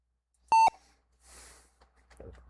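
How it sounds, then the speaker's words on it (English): A computer gives a short double beep while Windows 1.01 setup runs, followed by faint indistinct murmuring and a soft low rustle, with no clear speech. "I like these random beeps that just keep happening."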